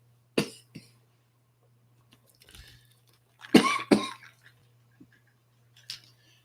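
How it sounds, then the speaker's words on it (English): A person coughs in short bursts while eating an apple, with a sharp cough near the start, a louder double cough in the middle and small throat sounds and clicks between them in a quiet room. "That apple's making me cough."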